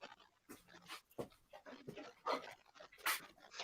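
Dogs pant and whimper close by, giving quiet, irregular breathy huffs and soft whines with no voices over them.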